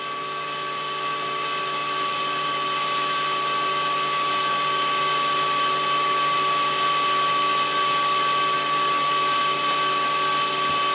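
Aircraft navigation beam signal in a cockpit: a steady, continuous tonal whine with layered harmonics over engine noise, unbroken and fairly loud for the whole stretch.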